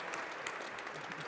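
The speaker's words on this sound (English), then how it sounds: "I think that deserves a round of applause." Audience applause at an IMF seminar on economic policy, a steady dense clapping from a seated crowd that holds evenly throughout, fairly faint and distant.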